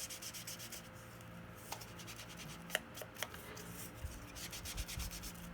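An ink pad scuffs over paper to distress a junk journal page, making soft, continuous rubbing strokes with a few small taps, close and quiet, with no voice.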